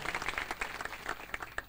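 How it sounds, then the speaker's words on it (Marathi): An audience at a kirtan gathering claps in a brief burst of rapid, uneven applause, moderately loud and close, with a faint murmur of voices. "त्यांच्यासाठी एकदा जोरात टाळी वाजवा"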